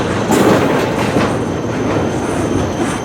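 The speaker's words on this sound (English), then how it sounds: "here come the final two containers of the train" CSX freight train container cars roll past close by, a loud steady rumble with rhythmic clickety-clack of wheels over rail joints and faint wheel squeal, no voices.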